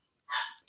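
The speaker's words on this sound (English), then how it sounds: "I'm sorry about the dog barking." A small dog gives a single short bark outside, sharp and fairly faint at a distance, heard alone with no one speaking.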